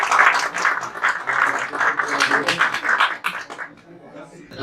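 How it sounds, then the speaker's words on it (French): Crowd applause at a graduation ceremony for a real-estate adviser training course, a dense, steady wash of clapping that thins and fades near the end, with voices mixed in. "Applaudissements s'il vous plaît."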